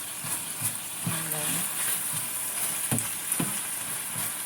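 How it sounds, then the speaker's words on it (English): Chicken being stir-fried in a Saladmaster skillet for fried rice, a steady background sizzle with a few scraping stirs, under a voice talking. "So I'm just going to stir it up"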